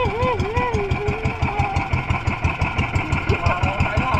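A fishing boat's engine running at sea in calm weather, a fast rhythmic chugging throb that stays steady and fairly loud, with someone talking over it.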